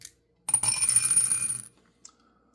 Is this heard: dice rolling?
yes